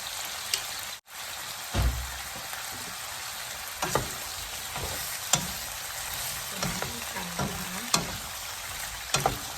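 Flowering vegetables are stir-fried with sugar and dark soy sauce alongside crispy pork, with a continuous close sizzle broken by repeated spatula scrapes and clinks against the pan.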